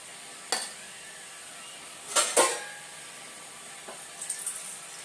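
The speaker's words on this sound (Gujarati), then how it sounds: "હજુ મારે પાણી એડ કરવું પડશે અંદર." Water is poured and stirred into handvo batter in a bowl, giving a few short splashy bursts separated by quiet gaps, with a softer stirring patter near the end.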